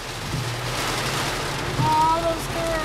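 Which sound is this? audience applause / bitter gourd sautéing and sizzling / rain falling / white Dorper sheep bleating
rain falling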